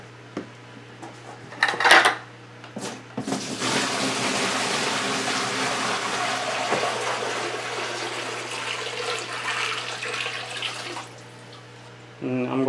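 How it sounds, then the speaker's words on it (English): Water gushes from a tap into a quarantine fish tank in a steady, loud rush lasting about eight seconds, preceded by a few clanks and knocks and stopping abruptly near the end. "let's fill this up with water"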